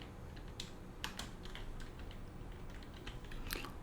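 Soft, quick computer keyboard typing as a label name is entered in modded Minecraft, a run of light irregular clicks at close range with no voices.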